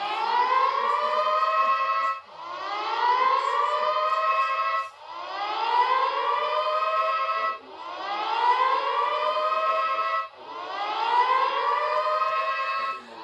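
A fruit machine with a reel fault sounds a loud alarm siren alone: five rising wails, each swooping upward and holding for about two and a half seconds, separated by short dips.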